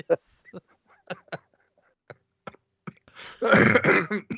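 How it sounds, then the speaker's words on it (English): A burst of harsh coughing near the end, close and loud, after scattered short voice sounds and quiet gaps. "He's coughing."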